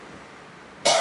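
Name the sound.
cough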